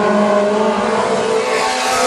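WISSOTA modified race cars roaring around a dirt speedway oval, loud sustained engine drone with steady harmonic whine, close and continuous for the whole span.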